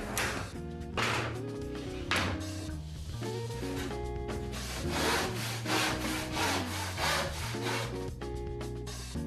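A plasterboard panel is cut on a Taliaplast plasterer's table, giving a loud, close rasping saw-like scrape in repeated strokes, with a low hum underneath.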